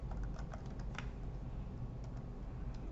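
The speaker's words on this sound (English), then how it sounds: "then type what we need" Quiet typing on a computer keyboard, a quick irregular patter of soft key clicks over a low background hum.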